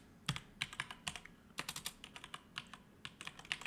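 Quick bursts of typing on a computer keyboard, close and crisp, with uneven clusters of key clicks and short pauses between words, no voices.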